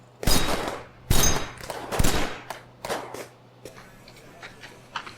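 Rifle fire at a firing range in the Pacific, heard as several loud, close shots in quick succession, each followed by ringing echoes and quieter scattered reports.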